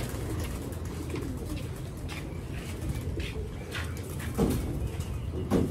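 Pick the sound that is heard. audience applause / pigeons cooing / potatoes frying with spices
pigeons cooing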